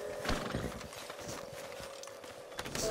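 A horse in the video game Red Dead Redemption 2 clip-clops at a steady walk with a faint whinny, the hoofbeats moderately close over a constant low background hum.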